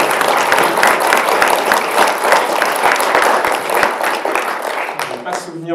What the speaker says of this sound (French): on peut vous applaudir, je pense, pour vos 2 prestations